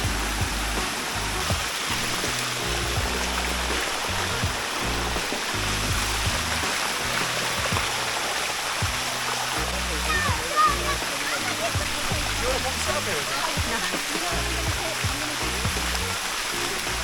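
A year-round waterfall fed by underground rivers pours over limestone-coated rock, a constant broadband rushing roar, close and steady throughout, with a voice faintly audible over the water.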